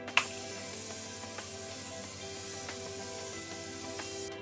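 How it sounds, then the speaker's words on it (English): A Morphe setting spray aerosol gives one short, sharp burst of fine mist near the start, then a faint hissing tail fades over a quiet steady background hum. "this setting spray is like an aerosol, like your deodorant"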